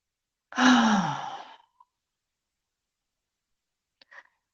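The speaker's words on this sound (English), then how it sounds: "So deep breath." A deep breath drawn and released as a long, audible sigh in a quiet room, followed by a faint small click after a few seconds of silence.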